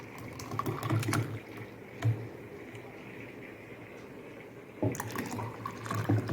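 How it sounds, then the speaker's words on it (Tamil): Ground nannari root juice is poured into watermelon juice, a soft splashing trickle of liquid close by. It comes in two short bursts separated by a quieter pause, with no talking. "இப்போ இது கூட நம்ம அரைச்சி வச்சுருக்கிற இந்த நன்னாரி ஜூஸ் இதையும் நம்ம ஊற்றிக்கலாம்."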